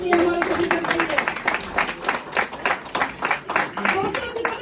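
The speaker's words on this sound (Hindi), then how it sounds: "जबरदस्त ताली होनी चाहिए हमारे सभी सर के लिए।" Meeting audience claps and applauds in a lively, rhythmic burst that continues throughout, with a voice speaking over the clapping.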